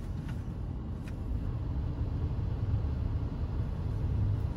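A 330 hp V8 car engine idles with a steady low rumble and a slight puttering from a leaking exhaust pipe joint, constant and close with no voices.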